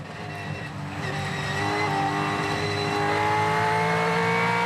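A Supercars race car engine screams at high revs up the back straight at the Gold Coast 500, pitch climbing steadily as it accelerates hard and close, loud and continuous with no talking.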